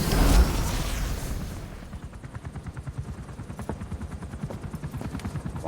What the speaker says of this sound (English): Yep, it's a helicopter, all right.